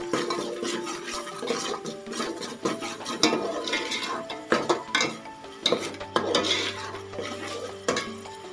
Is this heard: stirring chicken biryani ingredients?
yes